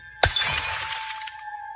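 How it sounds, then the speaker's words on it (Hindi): A glass bottle falls and shatters in one sharp, loud crash, followed by a bright ringing spray of breaking glass that fades over about a second, with a steady tone beneath. "बकरी के टकराने से उस टेबल पे रखी हुई बोतल सीधा नीचे आकर गिर गई और गिरते ही टूट गई"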